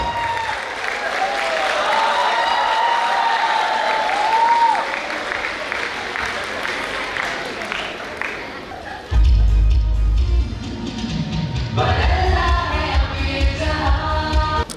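Applause rises from a college audience at a grand anniversary celebration, with music and a voice over a loudspeaker partway through.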